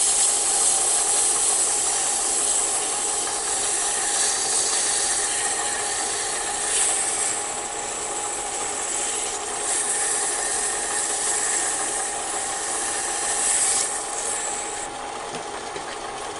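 A penguin Christmas ornament being sanded with 400-grit abrasive gives a steady, close, continuous hiss and rasp with slight swells in intensity and no talking.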